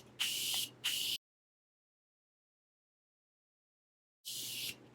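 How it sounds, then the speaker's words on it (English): Three sharp bursts of fine mist from a Morphe Mini Continuous Setting Spray hiss close up, two in quick succession, then silence, then one more. "I'm using the Morphe Mini Continuous Setting Spray, and I love it."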